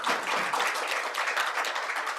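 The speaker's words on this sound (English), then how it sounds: "Can we just give them a round of applause, please?" Brief, steady clapping from an audience thanking the panelists at a democracy summit session, a moderate wash of applause heard alone.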